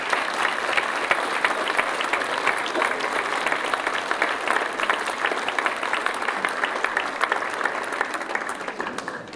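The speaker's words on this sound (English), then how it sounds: "Give them a round of applause," An audience at a magic show with dance acts claps in sustained, even applause that fills the room, steady and fairly loud throughout with a little crowd murmur.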